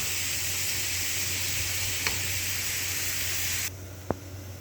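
Onion and garlic frying in a small amount of oil give a steady, close sizzling hiss that suddenly drops off near the end, followed by a single light clink.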